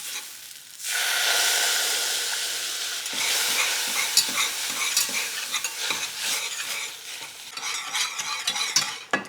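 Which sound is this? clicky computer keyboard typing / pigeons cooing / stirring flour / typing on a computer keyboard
stirring flour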